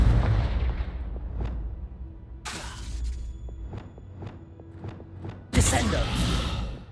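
Spell impacts from the Confringo fire spell in Hogwarts Legacy, a burst of explosive blasts followed by a rapid series of sharp cracks and a final heavy boom, loud and close, with a voice speaking around them.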